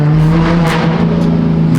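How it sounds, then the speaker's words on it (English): A 900-horsepower BMW M4 with a full straight-pipe exhaust idles at about 2,800 RPM, giving a loud, close, steady deep drone with a rough rumbling texture throughout. "the car's not super loud because there's nothing restricting this exhaust. It's literally a full straight pipe."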